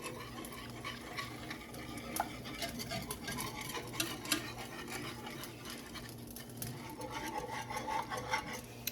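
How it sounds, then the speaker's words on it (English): A whisk stirs thickening gravy in a pan, a continuous close scraping and clicking of metal against the pan bottom with a steady rhythm and no talking. "we keep our whisk in and we keep stirring our gravy until she starts getting thick"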